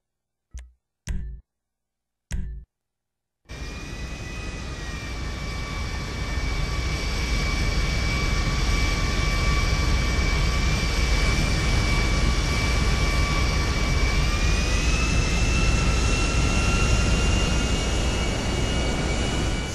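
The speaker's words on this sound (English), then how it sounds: "Gonna borrow a little jet, if you guys don't mind." Jet engine in the video game Grand Theft Auto V, a few short clicks and then a loud, steady roar with a high whine that rises slightly as it spools up, sounding alone without speech.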